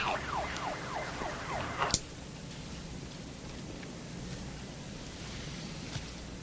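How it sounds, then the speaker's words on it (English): A wailing siren sweeps up and down repeatedly for a couple of seconds, then cuts off abruptly, leaving a steady hiss of rain-like noise. "You hear that? Police siren. Pretty obvious."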